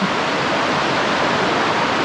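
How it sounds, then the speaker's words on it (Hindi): The Narhara waterfall in Dhamtari, Chhattisgarh roars with strong flowing water, a dense, steady rushing wash that fills the whole clip at loud, constant volume with no voices. "पानी का फ्लो देखिए इतना ज़्यादा है कि किसी को भी डर ज़रूर लगेगा"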